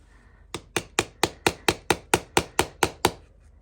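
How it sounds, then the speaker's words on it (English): A chisel struck repeatedly to cut away a protruding piece of wood gives about a dozen loud, sharp knocks in an even, quick rhythm, close by and with no talk. "I'm going to use this chisel"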